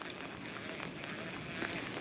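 Rain falling outdoors during a pike fishing session, a dense continuous hiss of drops with occasional louder patters, steady and fairly close, with no talk.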